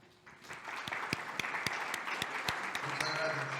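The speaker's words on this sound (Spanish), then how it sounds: "despedirlo con un aplauso por su intervención y su participación acá" Applause from a panel audience in Colombia, a broad steady wash of clapping with a few sharp individual claps standing out, moderately loud and sustained throughout.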